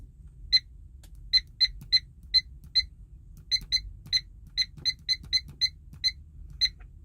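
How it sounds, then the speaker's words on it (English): A 2006 Ford Explorer chimes after starting, a string of about twenty short, high electronic beeps in a slightly uneven rhythm, fairly quiet over a low idle hum. "I hate that beep sound."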